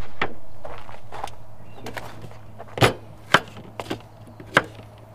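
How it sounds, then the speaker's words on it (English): Vegetables being cut up for dinner at a forest campsite, with sparse knife knocks on a board, a few louder sharp chops standing out against a low steady hum. "Start with cutting up the vegetables."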